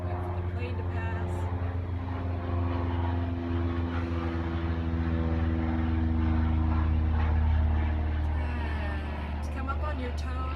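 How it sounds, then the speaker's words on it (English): A propeller airplane drones steadily overhead at a distance, its low hum swelling slightly toward the middle and then easing, continuous and alone in a quiet outdoor yoga setting. "Wait for the plane to pass."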